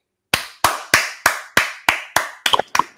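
Applause welcoming a guest on an online talk show about emigrating from Argentina: about nine sharp, evenly spaced claps, roughly three per second, close and loud, sounding like one or two pairs of hands, with no voices over them.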